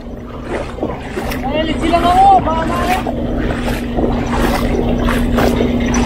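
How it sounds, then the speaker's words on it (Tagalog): A motorcycle crosses a river with a strong current on a rural bypass road, its engine droning low under rushing water while people talk and call out over it. "Ito, tatawid yung motor."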